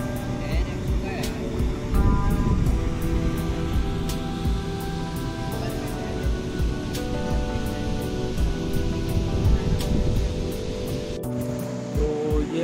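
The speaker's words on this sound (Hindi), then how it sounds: "और ये है छोटा सा वाटरफॉल" A small waterfall on a river at a picnic spot in Sitamarhi gives off a continuous broadband rush of falling water, steady and fairly close throughout.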